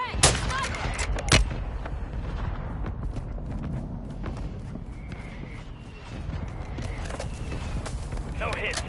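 Sharp gunshots crack in the Warzone 2.0 video game, a couple of loud reports near the start followed by scattered distant shots over a steady battlefield rumble, with players talking throughout.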